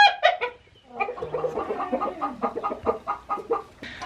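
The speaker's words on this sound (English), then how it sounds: "Even the chickens want to be in here." Several hens cluck and chatter in a steady, busy run of short calls inside a barn on a homestead, fairly close by, with no talking.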